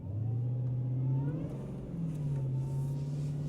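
A Dodge Demon 170 engine rumbles on wet roads, with a short rise in revs under light throttle and then a steady drone, heard from inside the car and without talking.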